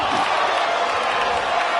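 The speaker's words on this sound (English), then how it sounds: "I don't think the crowd's too happy with that" A wrestling arena crowd reacting to a match finish: a steady, loud wash of mixed voices and murmuring with no clear peaks, continuous throughout.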